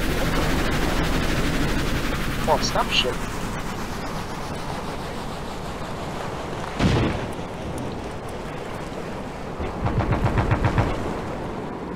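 Gunfire from a helicopter in the video game Stormworks, near an oil tanker at sea: bursts of rapid shots and a sharp blast over a constant roar of wind and engine noise, with a brief spoken word.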